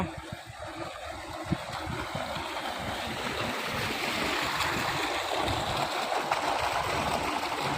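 Water gushes steadily from a motor pump outlet into an irrigation channel watering a wheat field, a continuous rushing and gurgling flow heard up close without voices.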